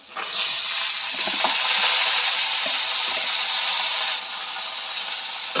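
Beans dropped into a hot pan burst into a loud, dense sizzling hiss, with a few soft stirring clicks. The sound eases slightly near the end, and no voices are heard.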